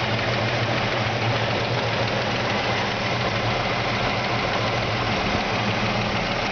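A 1954 Chevy 3100 truck engine, recently rebuilt and fitted with a factory rebuilt carburetor, idles with a steady, even rumble heard up close without talk.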